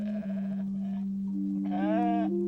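Sheep bleating out in rural hill pasture, several wavering bleats from more than one animal over a steady low tonal hum.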